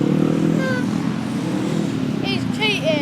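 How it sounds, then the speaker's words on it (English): A grasstrack racing motorcycle with a slipping clutch revs hard at the 2008 South Eastern Grasstrack Championships. The engine drones steadily and loudly throughout, with a commentator talking over it. "Adrian Harden seems to have got a slipping clutch by the sounds of the revs on that motor."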